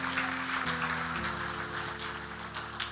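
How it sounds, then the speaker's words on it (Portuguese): A church congregation at a family congress applauds in a soft, even wash of clapping over sustained keyboard chords that shift pitch in steps. "Você pode aplaudir para esses irmãos mais uma vez?"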